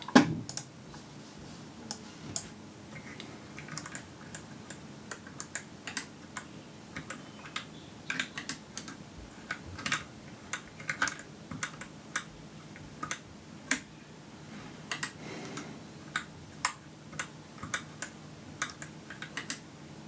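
Light, crisp clicks from a Svalboard Lightly ergonomic keyboard tap steadily in an uneven typing rhythm, close and fairly quiet, with no voices.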